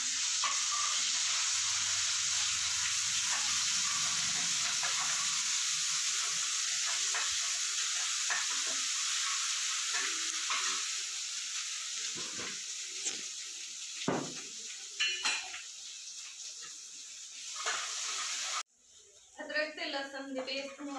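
Garlic-ginger paste fries in a pan for a Punjabi eggplant bharta, a loud, steady close sizzle with stirring scrapes that eases off and then cuts out sharply near the end, while someone talks over it.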